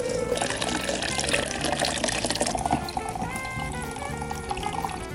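Water pours steadily into a glass French press for cold brew coffee, a continuous close splashing and filling sound with clear ringing tones running under it.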